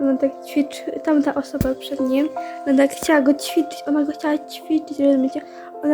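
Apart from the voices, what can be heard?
No distinct noise like a dog, phone or traffic.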